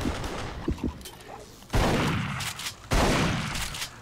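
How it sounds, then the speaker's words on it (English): Gunfire in the Duke Nukem Forever video game: a few scattered shots, then two loud bursts of rapid firing that ring out and decay, close and dominant. "Bad timing for those fuckers to start shooting at me."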